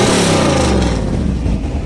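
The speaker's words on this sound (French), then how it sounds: "On sait que c'est un V8." V8 engine of a classic car revving loudly and close at an outdoor retro car show and concours d'élégance, a deep rumbling roar sustained without a break.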